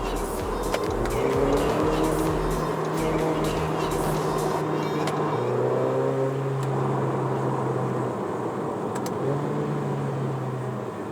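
The 2-liter turbocharged engine of a 2018 Mercedes-Benz GLA45 AMG pulls hard from inside the cabin, revs climbing in two strong surges with a shift between them, loud and close.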